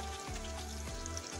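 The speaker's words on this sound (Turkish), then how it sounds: "Evet, bu şekilde kızartmaya devam ediyoruz." Sliced sucuk sausage and carrots fry in a pan, giving a steady, fairly quiet sizzle with faint crackles throughout.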